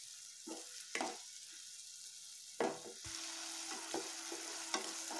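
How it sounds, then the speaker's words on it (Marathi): Jaggery being stirred into grated pumpkin in a pan, with bursts of spoon scraping and a soft bubbling simmer close by, no talk. "आता हा विरघळून देते मी गूळ"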